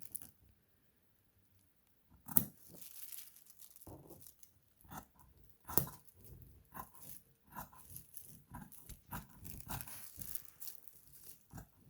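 Scissors cutting fabric pattern pieces for pajama shorts, close, irregular crunchy snips and rustles of cloth and paper with brief pauses, no talk.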